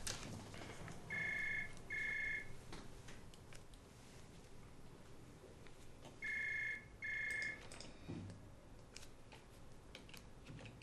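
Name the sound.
telephone ringing for a long time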